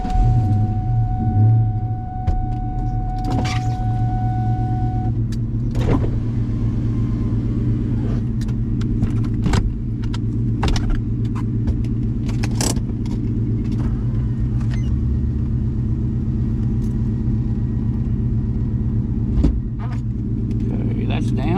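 An older convertible's engine starts and settles into a steady idling rumble, followed by the mechanical whir and clunks of the folding top lowering, all close and continuous for about twenty seconds.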